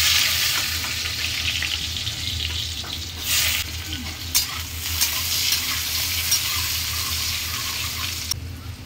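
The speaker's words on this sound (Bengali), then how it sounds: "হালকা তেল দিয়ে আগে সয়াবিন আর আলুটা আমি ভেজে নেব" Potatoes and soya chunks frying in a little oil in a wok, a steady loud sizzle with stirring scrapes and a few brief clatters throughout.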